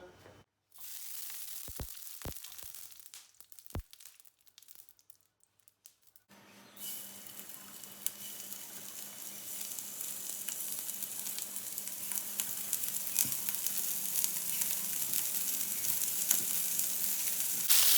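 Köfte meatballs frying in a preheated pan lightly coated with oil, a steady loud sizzle building after a few quiet seconds with faint clicks and clatter early on and no talk.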